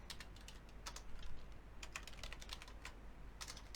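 Rapid clicking of fingers typing on a computer keyboard, in short irregular bursts with brief pauses, close and fairly soft.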